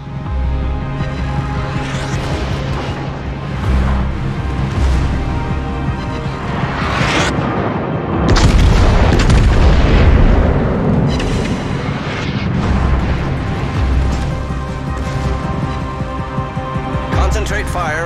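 Heavy artillery salvos and explosions boom through a naval battle video game, deep rumbling blasts layered over continuous battle noise, with a voice speaking over them.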